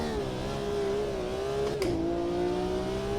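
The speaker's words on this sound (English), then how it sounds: "The Renault Megane Trophy V6." Renault Megane Trophy V6 race car in the Automobilista 2 racing game, its engine holding a steady high whine with a brief dip at a gear change, then pulling again, continuous and unaccompanied by talk.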